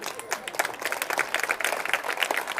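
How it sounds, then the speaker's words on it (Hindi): Brief burst of audience clapping at a Hindi poetry recital, a dense crackle of many hands sounding close and fairly loud, with no gaps across the short stretch. "ताली में मजा नहीं आ रहा आपकी में।"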